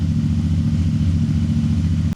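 A CFMoto 450MT motorcycle engine runs at a steady idle close by, with a deep, even rumbling throb that continues unchanged and then cuts off abruptly.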